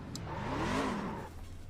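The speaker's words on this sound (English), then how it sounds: "I didn't start my truck." A truck engine in a racing video game cranks and revs up, pitch climbing and then falling back to a steady idle hum, close and fairly loud, with no voices.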